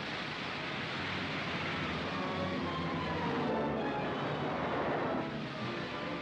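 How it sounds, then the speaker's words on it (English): A 1951 Matador B-61 pilotless bomber flies under its own jet power, a steady broadband roar holding at a constant level throughout, with a slight swell past the midpoint. "Officially called the B-61 pilotless bomber, it's launched from mobile platforms and flies under its own jet power once in the air"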